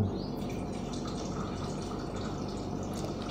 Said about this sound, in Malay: air hangat kita tuangkan ke sini